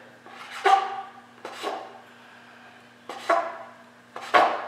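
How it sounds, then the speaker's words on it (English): A knife cuts the stem out of a mushroom over a bowl, making four separate soft scraping, rasping strokes spaced about a second apart, close and fairly quiet, with no talk. "we're just going to cut out the stem pretty much"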